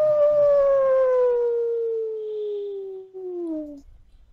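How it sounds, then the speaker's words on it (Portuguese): A single long howl performed as a sound effect for a tabletop role-playing game, a tonal wail that slowly glides downward over about four seconds and then cuts off, heard alone and fairly loud. "Quando vocês ouvem um uivo."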